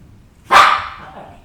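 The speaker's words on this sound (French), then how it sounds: "J'ai 6 chiens qui vont aboyer." A single close, loud dog bark, one sharp burst that fades quickly, from one of six dogs at home during a thunderstorm.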